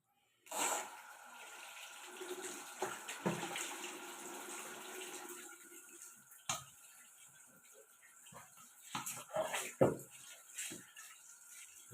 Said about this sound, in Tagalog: Hugasan natin ng maayos para matanggal yung mga dugo.